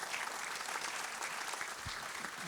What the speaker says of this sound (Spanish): Aplausos, Armando.